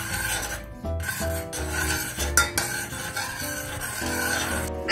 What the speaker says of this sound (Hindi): अब हम इसको मिक्स करने वाले हैं।